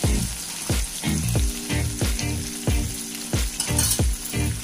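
Red chili powder, Kashmiri chili and spices fry in ghee with a steady close sizzle, broken by regular stirring scrapes about every two-thirds of a second. No one speaks.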